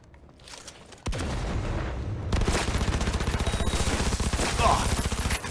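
Dense gunfire in the video game Cyberpunk 2077 with a shotgun in play, a loud sudden blast followed by continuous rapid, booming shots and heavy noise that last for several seconds.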